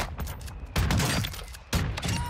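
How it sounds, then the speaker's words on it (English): Mortar strike explosions in an online shooter game, several heavy rumbling blasts in quick succession, loud and dense. "Mortar strike inbound now."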